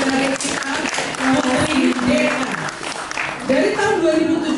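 A studio audience on a TV show claps in a sustained, dense wash while a voice talks over the applause throughout.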